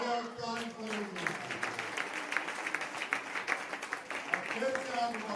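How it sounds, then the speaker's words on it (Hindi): A congregation at a Sunday sermon claps in a brisk, uneven burst of many hands, moderately close, beneath a preacher's voice speaking over it. "ताली करो।"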